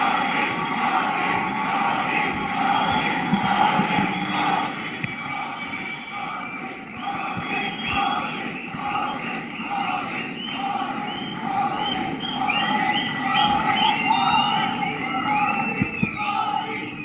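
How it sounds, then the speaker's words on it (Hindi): A large crowd roars and cheers to welcome Prime Minister Narendra Modi onto the stage at a public rally, a dense, loud, continuous swell of shouts lasting the whole stretch without a break. "हमारे प्रिय प्रधानमंत्री श्री नरेंद्र मोदी जी का तालियों की गड़गड़ाहट से स्वागत करें।"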